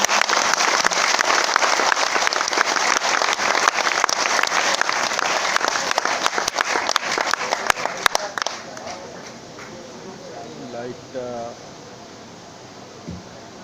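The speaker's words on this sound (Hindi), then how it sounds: "ताली थोड़ी एक बार मर्दों वाली बजाइए सर" Loud, dense applause from a seminar audience in Bhilwara fills most of the stretch before thinning out, with a few scattered claps and crowd murmur trailing near the end.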